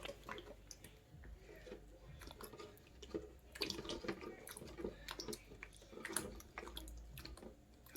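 Water drips and splashes softly onto lettuce and sweet onion seed trays as they are wetted down indoors, a faint, irregular patter of small drops close by, with no talking.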